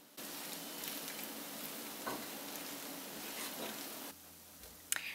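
Singaporean fried carrot cake with egg spread thin in a hot pan, hissing in a steady, fairly quiet sizzle that cuts off near the end, followed by a brief clatter.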